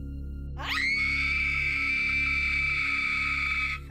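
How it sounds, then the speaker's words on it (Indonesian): A single sustained high-pitched scream rises sharply and holds steady for about three seconds over a low, droning background hum. "tiba-tiba itu ada suara orang teriak."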